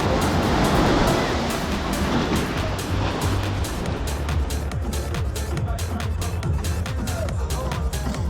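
Ocean surf rolls onto the beach at Mount Irvine in Tobago, a steady, loud wash of breaking waves with wind buffeting the microphone throughout.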